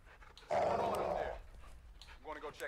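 A dog growls loudly and close in Modern Warfare 2, a sustained rumbling snarl that swells abruptly and then tapers, with quieter rustling and faint sounds after it.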